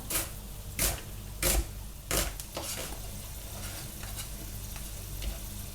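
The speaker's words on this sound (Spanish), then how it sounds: "almendras están sofriendo" Almonds sautéing in a pan for pasta with almonds and prawns, a soft steady sizzle broken by several sharp stirring scrapes and clinks of a utensil against the pan, fairly quiet and close.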